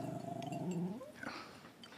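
A small dog growls low and steadily for about a second, close and fairly quiet, then a softer snuffling sound follows.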